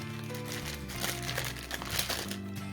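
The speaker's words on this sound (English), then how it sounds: "Let me cut this open." Packaging for an Andis dog shaver being cut open, a dense close crinkling and crackling of plastic and cardboard lasting a few seconds without talk.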